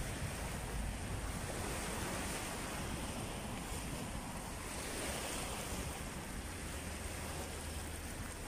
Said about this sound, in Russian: Вот оно, море. Красивое, холодное,